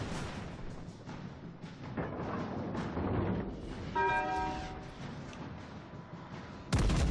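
Warship gun shots in World of Warships Legends, deep rumbling booms layered with a ringing tonal burst midway and a sharp loud blast near the end, over continuous game ambience.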